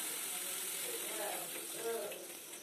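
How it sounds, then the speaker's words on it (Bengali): Water poured into a spiced bean and potato curry in a pan, a soft splashing gush over faint sizzling, quiet and close. "এবার আবারও ভালো করে কষিয়ে নিয়ে আমি এর ভিতরে দিয়ে দিচ্ছি জল।"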